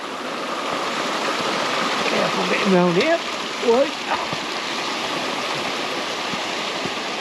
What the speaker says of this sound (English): Right, another river.